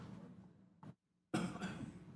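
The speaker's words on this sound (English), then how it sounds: "As I cough there" Two short coughs, close to the mic, the second harsher and longer after a brief silence.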